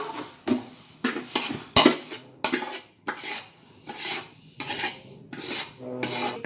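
Roasted semolina being scraped out of a metal cooking pot into a wide plate, a run of repeated rasping metal scrapes with short pauses between strokes, close and fairly loud, no talking.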